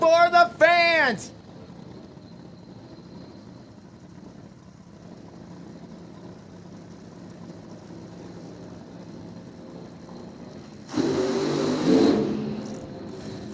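Top Fuel dragster at a drag strip doing a burnout with an engine that sounds wrong; a distant roar runs under crowd noise and announcer talk, then swells sharply and harshly near the end.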